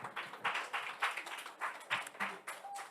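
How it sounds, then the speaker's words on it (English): A small audience at a student activity day at a digital design and creative coding hub claps for a student, with irregular close handclaps in uneven bursts and a faint voice underneath. "Clap for him."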